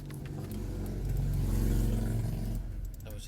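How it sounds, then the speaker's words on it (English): A car passes close outside, a steady engine drone that swells to a loud peak mid-way and then cuts off fairly abruptly. "Sorry about the car."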